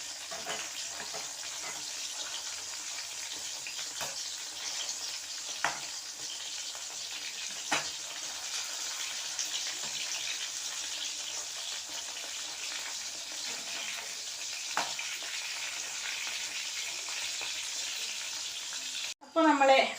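Chicken pieces fry in oil, a steady moderate sizzle and hiss running throughout, marked by a few sharp clatters as pieces are turned and a brief louder knock at the very end.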